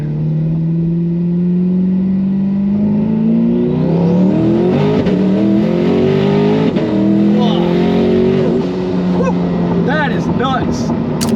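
Twin-turbo C8 Corvette making about 1500 horsepower accelerating hard from inside the cabin, its engine roaring loud and close, climbing steeply in pitch, then shifting and climbing again, with turbo whistles and people talking over it.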